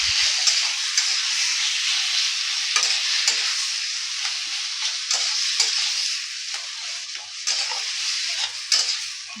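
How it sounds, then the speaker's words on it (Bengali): Drumstick pulp frying in a pan for a Bengali drumstick mash: a loud, bright, continuous hiss of oil with intermittent stirring scrapes and taps, very close. "এবার এটাকে ভালো করে ফ্রাই করে নিতে হবে"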